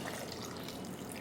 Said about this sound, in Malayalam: വെള്ളം ഒഴിച്ചെടുക്കാം.